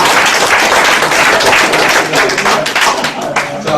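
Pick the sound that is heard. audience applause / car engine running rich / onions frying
audience applause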